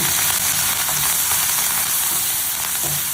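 Curry leaves fry in hot oil in a pan with potato and eggplant, giving a steady, loud, close crackling sizzle that hisses on without pause for a few seconds.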